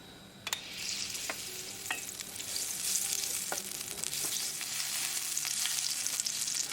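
Butter and olive oil fry in a pan on a stovetop burner, a steady, close sizzle that builds slightly, with a few sharp ticks and scrapes of stirring and no voices.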